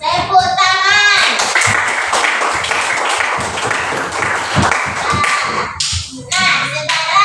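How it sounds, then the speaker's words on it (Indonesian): Schoolchildren clap their hands together in a classroom as a teacher leads them, a busy rhythmic patter of many hands with children's voices and talk mixed in. "Tepuk tangan"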